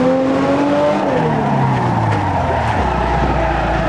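A BMW M1 race car in Assetto Corsa, driven at the Vallelunga circuit, gives a loud engine drone whose pitch slides downward while tires squeal and skid throughout.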